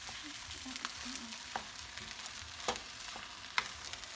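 Eggs scrambling in a wok of fried rice with teriyaki Spam, giving a steady soft sizzle with a few sharp utensil clicks and scrapes scattered through, fairly quiet and with no talking.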